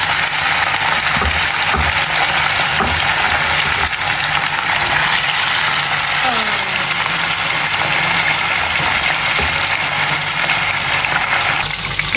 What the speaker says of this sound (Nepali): मेरो चाहिँ माछा फ्राई गरेर अलमोस्ट भयो